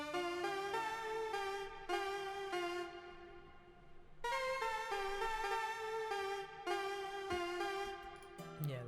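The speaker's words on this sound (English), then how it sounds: "I found this lead from 40's Very Own Keys, the 40B40 lead" A synth lead plays a bright, sustained melody with clear repeated notes in phrases, pausing briefly before resuming, the 40B40 lead preset from the 40's Very Own Keys pack.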